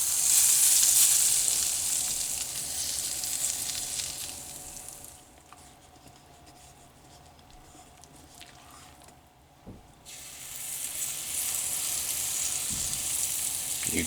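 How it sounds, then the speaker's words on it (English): Cornbread batter sizzles and fries in hot oil inside a Birmingham Stove and Range Handy Dan cast iron cornstick pan, a steady loud crackle that dips quieter midway before swelling back up. "You can't have cornbread without the sizzle"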